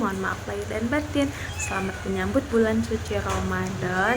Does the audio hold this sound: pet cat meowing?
yes